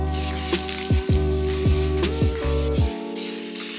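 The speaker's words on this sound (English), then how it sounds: "I'm going to start with a light first coat with this filler primer." Short hissing bursts of a filler-primer spray can coating a rusty wheel rim from a 1995 Toyota Celica, several quick pulses close to the mic, then a longer spray before stopping.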